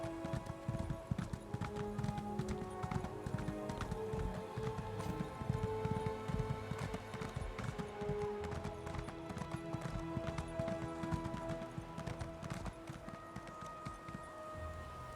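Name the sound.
horse galloping in Elder Scrolls Online video game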